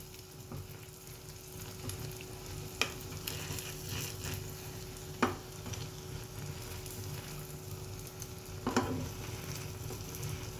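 A Thai omelette fries in a pot of hot oil over medium-high heat, giving a steady, close sizzle with a few sharper pops and crackles breaking through.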